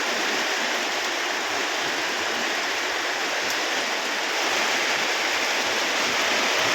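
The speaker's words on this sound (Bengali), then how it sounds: "এই দিকটা দেখেন কি পরিমাণ বৃষ্টি, পানি জমে গেছে, বৃষ্টি ফোঁটা পড়তেছে" Heavy rain pours down steadily and pools into standing water, making a dense, unbroken hiss that stays loud and close for the whole stretch with no voices.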